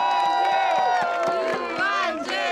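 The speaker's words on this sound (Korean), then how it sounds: "자 우리 유한진 선수에게 큰 박수 한번 보내주시고" Baseball stadium crowd cheering and shouting for a player after a Nexen versus Hanwha game, a loud dense roar of voices with a few claps under it, continuous throughout.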